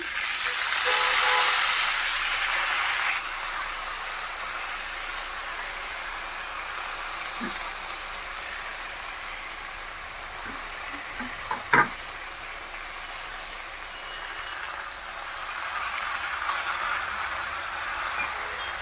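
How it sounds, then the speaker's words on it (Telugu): Gongura leaves hitting hot oil in a pan and frying, a steady broad sizzle that is loudest at first and then settles, with a couple of faint clicks partway through and no talking. "చూడండి గోంగూర వేస్తున్నాను."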